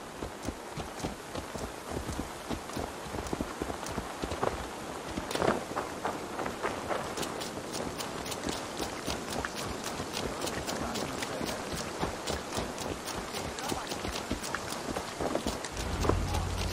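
Horse hooves clip-clopping at a brisk gait in the Assassin's Creed Valhalla video game, a steady stream of quick close hoofbeats under a soft ambient wash, with no talk.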